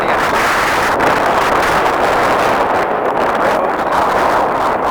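Loud, continuous wind buffeting a microphone beside the Chattahoochee River in Georgia, a dense low rumble with gusty swells throughout and no voices.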